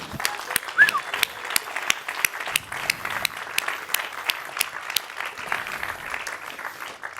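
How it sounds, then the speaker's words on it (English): Audience at the ChangeNOW 2020 Climathon Awards applauding the local organizers, sharp distinct claps from a modest crowd, steady and moderately close, with a faint voice briefly audible near the start. "I would like to have a big hand of applause for the unsung heroes of Climathon, our local organizers."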